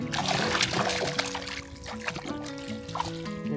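A hooked brook trout thrashes at the surface of a mountain lake, making continuous close splashing and trickling, with a faint tonal hum underneath.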